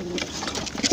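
Racing pigeon hen cooing close by, a short run of soft, throaty coos with a couple of louder notes near the end.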